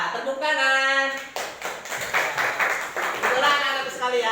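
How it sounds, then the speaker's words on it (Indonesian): Schoolchildren in a classroom clapping together, a short burst of applause following a voice, with a voice starting again over the fading claps near the end. "Iya, tepuk tangan."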